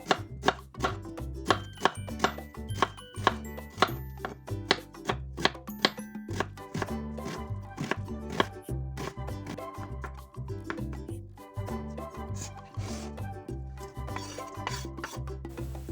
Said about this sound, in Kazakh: Пиязды да ұсақтап тураймыз.